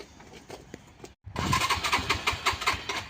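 A parked motorcycle, kept under a cover all winter with pitted chrome, fires up at the first try. A brief silence gives way to a loud, steady engine rumble close by, with no voices.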